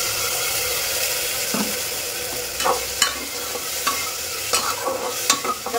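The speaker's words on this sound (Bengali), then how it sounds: "এবার এর মধ্যে পেস্টটা দিয়ে দেবো, আদা রসুন কাঁচা লঙ্কা পেস্ট।" Ginger, garlic and green chili paste sautés in a pan over already-fried tomato and onion for a chicken dish, giving a steady close sizzle broken by scraping stirs and a few sharper clatters.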